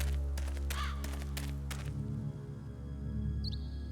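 In the video game Shadow Hearts: Covenant, a harsh crow-like cawing bird call sounds a few times early on over a steady low game hum, followed by a short high chime near the end.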